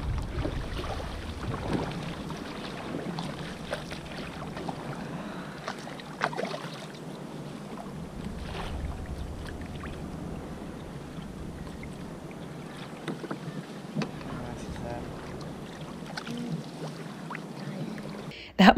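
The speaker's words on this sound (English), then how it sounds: "So lovely coming out here and like kayaking away" Kayak paddled out toward a tropical island near Kuala Lumpur: soft, continuous water swishing and light splashes under faint wind noise, steady and close, with no talk.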